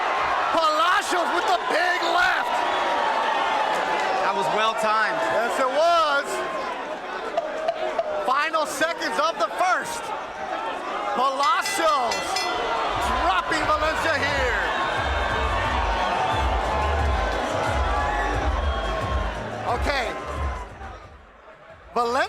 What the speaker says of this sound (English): Valencia has a big crowd. Palacios has the rest of the crowd. That was a lot of noise for him.